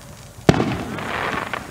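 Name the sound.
TNT fireworks going off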